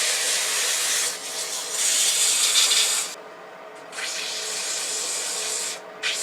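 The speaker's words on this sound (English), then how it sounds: "I'm going to sand it 120" Turned wood on a lathe gets sanded with 120 grit sandpaper, a loud, broad hissing rasp that runs in long continuous strokes with brief quieter gaps as the paper shifts position, with no talking.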